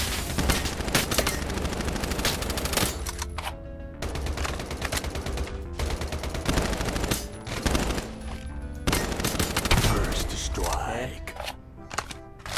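Rapid bursts of automatic gunfire in the video game Lost Light, dense volleys of loud shots in repeated clusters with brief gaps, a voice speaking faintly underneath.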